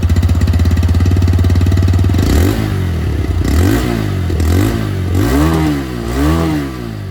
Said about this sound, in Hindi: ये था रेडर 125 एबीएस की आवाज़।